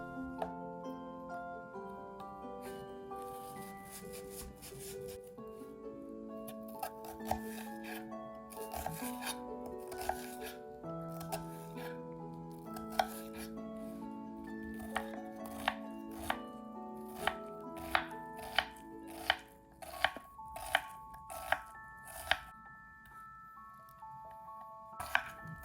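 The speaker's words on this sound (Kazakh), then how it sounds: "3 дана пиязды майдалау текшелерге кесеміз." Three onions are cut into cubes with a knife for a Kazakh beef-liver pancake filling: steady close knife chops on a board that quicken toward the end, with soft background music throughout.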